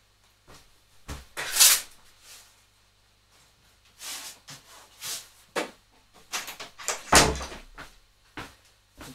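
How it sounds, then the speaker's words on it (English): A wooden door is shut with a few knocks and thuds in a quiet room during an oil painting session, followed by a sharper bang and some shuffling, with no one speaking. "Just close my door."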